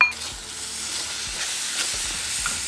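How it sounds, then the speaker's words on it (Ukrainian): A strawberry and lemon juice mixture sizzles and bubbles in a frying pan over heat, a steady crackling hiss with occasional soft stirring thumps, fairly close. "цю полуничну штучку я на сковорідку виливаю і буду на вогні це все провалювати"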